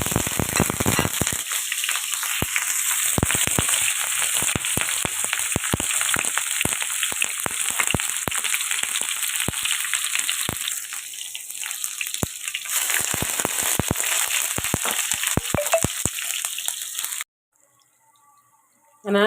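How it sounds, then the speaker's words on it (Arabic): Chopped onion hits hot oil and sizzles loudly and steadily with sharp crackles and pops, then the sound cuts off abruptly near the end. "قطعت البصل كده بالمنظر ده زي ما انتوا شايفين، وهنزل بيه كده على الزيت."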